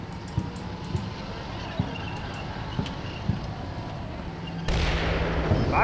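Gunfire aimed at a building in the video game Combat Mission Black Sea, distant thudding shots repeating at roughly one-second intervals over a low rumble, ending with a louder, noisier burst.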